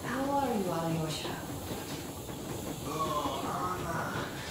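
Steady steam hiss from the Yermak steam train in the video game Metro Exodus runs continuously beneath people talking.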